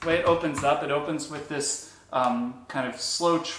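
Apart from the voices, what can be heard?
No distinct noise like a dog, phone or traffic.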